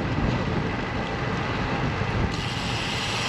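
Steady headwind buffeting a cyclist's microphone while riding east on Upper Lake Drive in Kings River, a constant loud low roar with no pauses.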